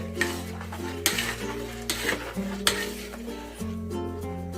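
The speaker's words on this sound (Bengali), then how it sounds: "গুলিয়ে নিচ্ছি গুড়টা দিয়ে ভালো করে আমি মিশিয়ে নিলাম ব্যাটারের সাথে" Jaggery being stirred into patisapta batter in a bowl, a utensil scraping and clinking steadily against the sides under a sustained musical background.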